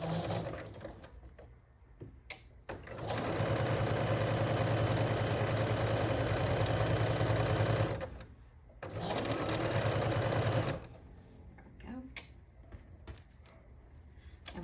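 A sewing machine stitches quilt pieces together in two steady, loud running bursts of several seconds each, separated by a short pause, with quiet handling clicks around them.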